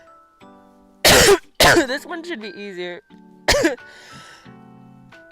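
A couple of sharp, loud coughs or throat-clearing bursts close by, followed by a person speaking briefly.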